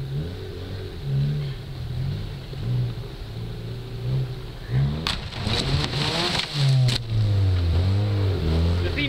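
A modified Honda car engine revs in repeated rising and falling surges, loud and close, with a mid-clip burst of noisy acceleration before the engine settles back into pulsing throttle blips.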